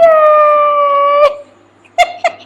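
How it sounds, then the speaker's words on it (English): A dog lets out one long, loud, close howl that ends abruptly, followed after a short pause by a few brief yips or whimpers. "My jealous dog."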